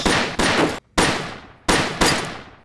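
Loud gunfire in a movie scene, several heavy shots in quick succession, each ringing out and decaying before the next burst, close and dominant with no talk over it.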